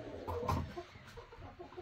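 A seven-month-old Buff Wyandotte hen on a farm gives a few soft, low clucks close by, with faint farmyard background noise.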